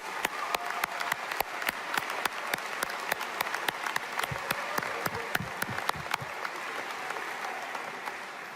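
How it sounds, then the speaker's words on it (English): Sustained audience applause for graduates at a Texas A&M commencement, a broad wash of clapping with one or two loud, rhythmic nearby clappers beating steadily through it. "Please help me give these graduates a round of applause."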